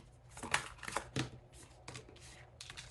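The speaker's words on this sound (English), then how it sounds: "I'm going to keep shuffling and just take one at a time." Crisp papery riffling of tarot cards being shuffled in short bursts, close to the microphone, with brief pauses between the flurries.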